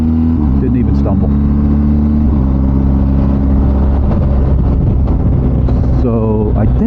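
A BMW R1250GS motorcycle engine holds a steady drone in third gear at low road speed, loud and close, with a voice talking over it and a brief rising rev near the end.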